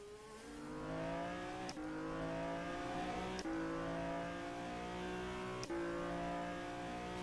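A Dallara IR18 IndyCar in rFactor2 drones on with a continuous high-revving engine, its pitch rising through each gear before three sharp upshifts break the sound, loud and steady with no talk.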